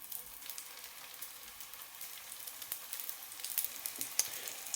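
Dumplings fry in oil in a pan with a crisp, crackling sizzle that pops and spits continuously at close range, growing a little busier toward the end.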